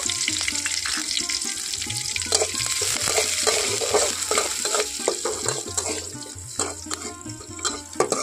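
Cut green chillies fry in mustard oil, a close, busy sizzle with frequent crackling pops and the clatter of stirring, steady and fairly loud throughout, no voices.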